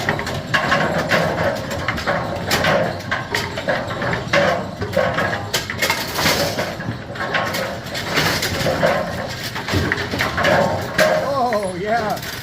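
A Brunswick A2 bowling pinsetter runs with loud, continuous mechanical clatter, rattling gears, pulleys and ratcheting parts in steady repeating cycles, heard up close and dense throughout.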